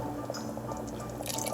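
Water poured into a pot of boiling mutton kuzhambu curry gives a soft, close trickle and splash over a low simmering bubble, with no talking.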